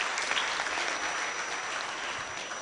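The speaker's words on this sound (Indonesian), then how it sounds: "Tepuk tangan sekali lagi." Applause fills the hall at a diploma graduation ceremony for a furniture and wood-processing polytechnic in Indonesia, a dense, sustained crowd clapping that holds steady throughout with no speech.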